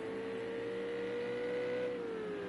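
A Ferrari GT3 race car engine in a racing game at Spa, holding a steady high drone that swells slightly, then drops in pitch near the end as the revs fall, loud and close with no talk over it.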